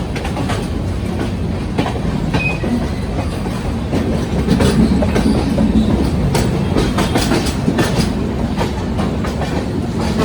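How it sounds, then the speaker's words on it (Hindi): The Jaynagar Danapur Express pulls into Samastipur with loud, close clickety-clack wheel rhythm and rattling carriages, the rumble swelling through the middle and sharp rail clicks repeating throughout. "समस्तीपुर अराइविंग करती हुई। जयनगर दानापुर।"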